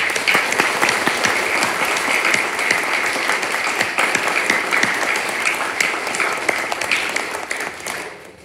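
A church congregation at a Sunday worship service at St George Episcopal Church breaks into steady, dense applause that fills the room for several seconds, then fades away at the end.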